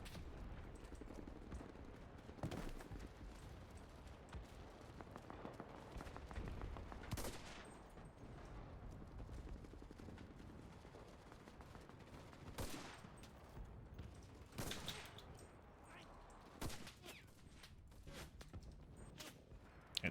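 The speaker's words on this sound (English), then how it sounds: "There's a lot of guys shooting at me." Gunfire in the World War II shooter game Enlisted on D-Day, with a US Garand rifle and dense volleys of rifle and machine-gun fire crackling continuously, several sharper nearby shots standing out against distant fusillades.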